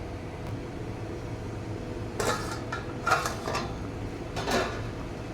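A metal lid is set onto a cooking pot on a kitchen stove, giving a few short clanks and rattles against a low background hum.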